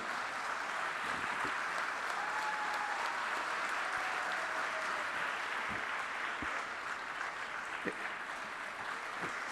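Steady applause from a large audience welcoming President Droupadi Murmu at a formal ceremony in Puri, a dense continuous clapping that fills the whole stretch at even volume with a few sharper individual claps standing out.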